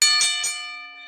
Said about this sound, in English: let's hear bell ringer